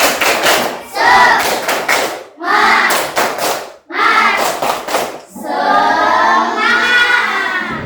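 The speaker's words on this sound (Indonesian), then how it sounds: "Sekali lagi, tepuk semangat." A class does a rhythmic spirit clap together, loud bursts of clapping and chanting in several grouped phrases separated by short pauses, ending in a sustained shouted cheer.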